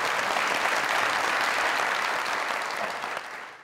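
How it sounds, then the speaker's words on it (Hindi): A crowd claps steadily in sustained applause that gradually fades toward the end. "जो जो आवाज उठाता है उसके लिए तालियां बजा दें।"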